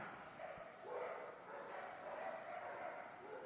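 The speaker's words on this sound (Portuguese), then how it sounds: "A cachorrada tá que tá hoje." Several dogs barking and yipping at a moderate distance, a continuous rough chorus that runs throughout without pause.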